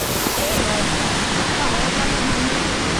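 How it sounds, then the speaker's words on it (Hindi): The Kapildhara waterfall, a tall white cascade, roars as a steady broadband rush of falling water, loud and close throughout with no break. "मुझे वाटरफॉल तो अच्छा है, सच में लग रहा है कि दूध है जैसे"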